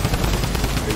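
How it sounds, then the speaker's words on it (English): Drum gun fire in Fortnite, a dense rapid chatter of shots forming a steady loud wash of automatic gunfire that runs through the whole second. "They have a drum gun."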